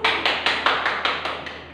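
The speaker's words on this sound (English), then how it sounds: "let's give a round of applause" A brief round of classroom applause: a small group claps in a steady, fairly quick rhythm of about eight distinct beats, close and clear with no talking.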